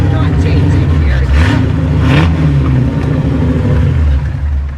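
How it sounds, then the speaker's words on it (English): A 1928 Ford Model A Sports Coupe engine revs at an outdoor car show, a steady close rumble with two brief rising surges, under background voices and crowd noise. "It's a 1928 Ford Model A Sports Coupe."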